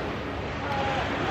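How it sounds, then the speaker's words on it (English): Ocean waves wash steadily behind a beach bar as a continuous broadband rush, with wind buffeting the microphone. "You can hear the waves behind me."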